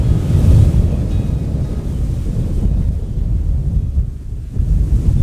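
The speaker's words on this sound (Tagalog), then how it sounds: "Grabe yung lakas ng hangin." Strong wind buffets an outdoor grassland while endangered tamaraw are being photographed, giving a loud, low, rumbling roar of gusts blasting the microphone, surging and easing briefly but never stopping, with no speech.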